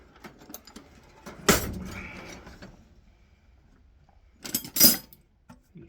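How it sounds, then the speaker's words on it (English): Ratcheting wrench working alternator bolts on a 2007 BMW 650i, heard as two short, loud metallic bursts of clicking and clinking separated by quieter mechanical rustling. "Use ratcheting wrench, and the other one works just fine."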